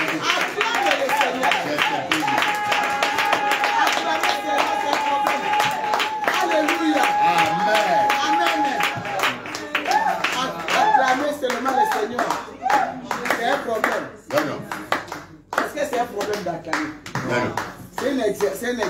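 A congregation claps steadily together at a prayer vigil and retreat, the rhythmic hand claps loud and close, mixed with voices raised in praise and acclamation throughout.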